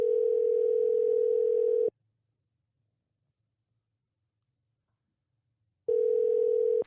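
A telephone ringback tone sounds for an unanswered call: one steady electronic ring of about two seconds, a long silent gap, then the next ring starting, clear and alone.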